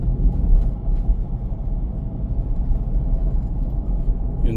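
A car being driven gives off a steady low road rumble and engine drone from inside the cabin, continuous and fairly loud with no voices over it.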